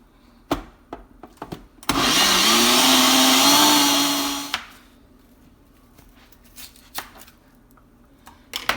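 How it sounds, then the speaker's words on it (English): Kitchen blender pureeing tomatoes for Nigerian jollof rice, a loud roaring whir that starts abruptly, runs for about three seconds and winds down, with scattered knocks and handling sounds before and after, no talk. "I'm going to puree this."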